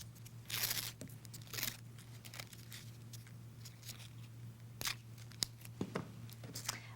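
Scissors snip through paper flower stems with a series of quick, crisp cuts and rustles at close range, fairly quiet against a steady background hum.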